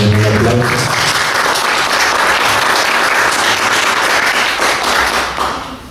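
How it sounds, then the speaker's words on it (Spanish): Audience applause at an academic seminar on cities, innovation and environment, loud and close, starting over a brief voice, sustaining evenly for several seconds before tapering off. "Le damos también un aplauso."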